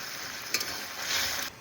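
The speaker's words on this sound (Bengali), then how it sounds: "লাউ একটু ভেজে নিয়েছি, এবার একটুখানি হলুদ দিয়ে তারপর জল দিয়ে দেবো।" Bottle gourd frying in a pan gives a steady, fairly quiet sizzle with a soft clack near the start, heard alone for a short moment.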